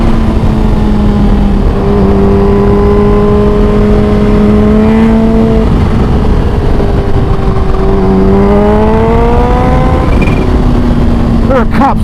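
Kawasaki Ninja H2 motorcycle riding on the road, a loud engine holding a steady tone, dropping in pitch, then rising again through gears, with a sharp burst of revving at the end.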